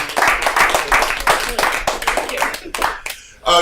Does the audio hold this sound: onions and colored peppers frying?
no